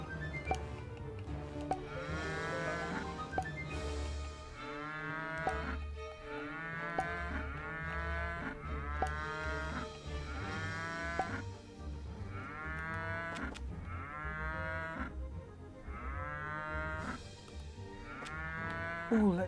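Repeated cartoonish cow moos in quick succession over a busy backdrop of Rock of Ages 2 game music and effects, the lowing calls overlapping throughout.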